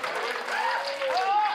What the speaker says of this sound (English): The limited capacity crowd here at the Vacationland Cup just came unglued for that one